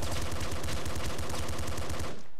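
Rapid, dense automatic gunfire from a weapon in the video game Nuclear Throne, a steady stream of loud shots that continues without a break and then cuts off abruptly at the end.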